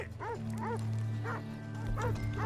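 Several dogs bark in quick bursts in Red Dead Redemption 2, sharp repeated yips over a steady droning background hum.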